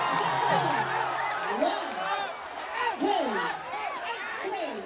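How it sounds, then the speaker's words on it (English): Crowd roaring and cheering at a Muay Thai fight, a loud continuous swell of voices with whoops, overlaid by excited commentary throughout. "The crowd loving every moment."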